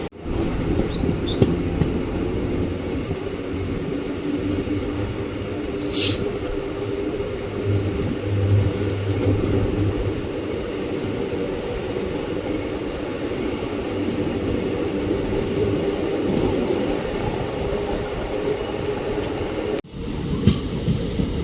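A passenger train on the Mysore–Talaguppa line, hauled by a KGM-based WAP7 electric locomotive, rumbles steadily throughout with dense rolling wheel and carriage noise, heard loud and close from on board with no talk.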